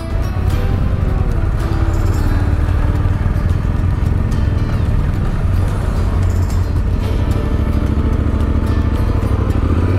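Adventure motorcycle on a backcountry trail of the Washington Backcountry Discovery Route, engine running loud and steady up close as the rider shifts into gear and pulls away, a continuous low drone with wind and road rumble.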